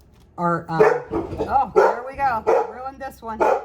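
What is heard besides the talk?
dogs barking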